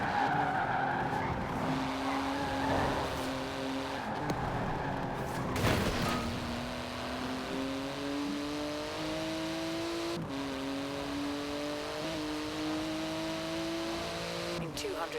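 Porsche 911 GT, a widened 911 variant, driving in the racing game Forza Horizon 4, its engine droning steadily with rising and falling pitch, tyre squeal and skidding through corners, and a brief loud burst midway.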